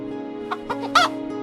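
Chickens cluck as a storybook sound effect, a few short, sharp clucks in quick succession, the last one loudest, over faint background music.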